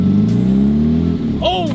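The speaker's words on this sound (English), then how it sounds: "Go forward and go slow. I don't want to ruin my car." A 2013 Genesis Coupe creeps slowly forward with a steady low engine drone over crunchy objects, and a brief crackle and squeak near the end.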